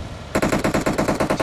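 Loud automatic gunfire from the mobile battle-royale game PUBG Mobile, a rapid burst of about ten evenly spaced shots that starts abruptly after a brief quiet moment and carries on steadily to the end.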